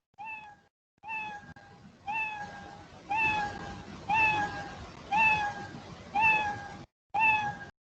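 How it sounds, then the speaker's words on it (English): A cat meow sound effect plays repeatedly, about eight clear, evenly spaced meows, each with a slightly rising tone, loud and close with no other sounds. "So I think you are able to hear that meow sound."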